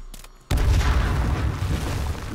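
Grenade explosion in the video game H1Z1: a sudden loud, deep boom after a moment of near-quiet, followed by a sustained rumbling roar that slowly fades.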